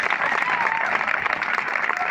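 A crowd claps in dense, sustained applause while a voice speaks loudly over it.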